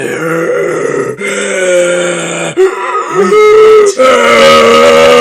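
A voice imitates heavy, rasping breathing, loud and close, with drawn-out grunting gasps repeated in strained pulses.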